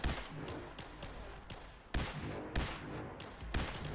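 Rapid bursts from a machine gun turret in the game Fallout 4 rattle in quick repeated volleys, several sharp onsets across four seconds at moderate loudness without speech.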